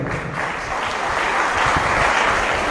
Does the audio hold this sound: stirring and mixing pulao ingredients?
no